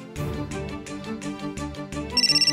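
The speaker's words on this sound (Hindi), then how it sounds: "पुलिस को नहीं, तेरे रोहन को कल लगा रहा हूँ।" A ringtone melody plays loudly for an outgoing phone call, a repeating pattern of bright tones that ends in a quick pulsing beep.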